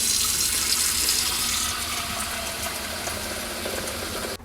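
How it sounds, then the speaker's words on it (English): Water runs steadily into an electric kettle from a tap, a continuous broadband hiss and splash that stays close and even, then cuts off abruptly at the end. "So let's add the water inside first."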